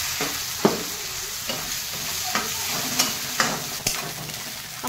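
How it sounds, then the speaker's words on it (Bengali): Onion, green chilli and capsicum stir-fried with spices in a pan, giving a steady, loud sizzle broken by regular scrapes and clinks of the spatula. "এবারে এই কাঁচা লঙ্কা আর ক্যাপসিকাম একটুখানি দেবো, বেশি দেবো না। এবারে এটাকে ভালো করে একটু কষবো।"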